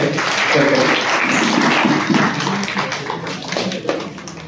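Audience clapping at an English teachers' association district-level function in Malegaon, a steady crowd applause holding for several seconds before easing, with some voices mixed in.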